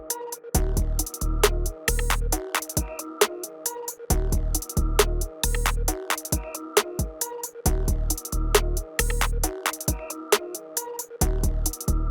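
A looping hip hop beat made in FL Studio, with heavy kick drums and busy, rapid percussion hits over a steady synth line, loud and continuous with no voices.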